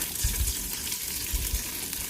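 An egg frying in hot oil in a pan for Thai nam fried rice gives a soft, steady sizzle with a few low bumps of a spatula, faint and close, no talking.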